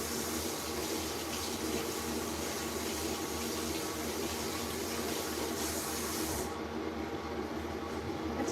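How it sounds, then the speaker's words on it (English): Tap water runs steadily from a faucet for hand washing, a continuous even hiss and splash that stays close and unbroken, with no talking over it. "I'm gonna wash my hands off."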